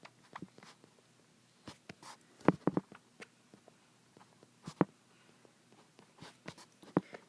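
Pen scratching out a geometry proof by hand, a series of short irregular strokes and taps, close and fairly quiet, with brief pauses between bursts and no talk.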